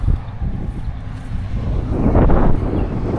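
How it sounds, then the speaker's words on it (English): Steady outdoor wind blowing across a microphone in an orchard, a continuous low rumble that swells louder toward the end, with no talking. "That wind feels great."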